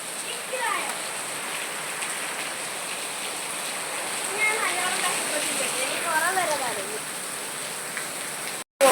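Steady rain falling outdoors during a storm with hail, a continuous broadband hiss of drops on surfaces, with indistinct voices talking faintly partway through before an abrupt cutoff near the end.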